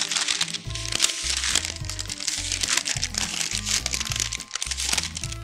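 Parchment paper crinkles and crackles loudly and up close as it is pulled tight around rolled dough for a breakfast dessert board, with busy rustling throughout and no talking.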